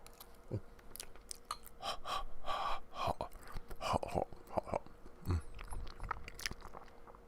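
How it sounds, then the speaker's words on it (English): Close-up eating sounds from someone on a live radio-style show: wet chewing, small bites and gulping swallows with sharp breaths, continuing steadily through the stretch with faint murmured voice at moments. "you're hearing all the sounds of me swallowing and stuff"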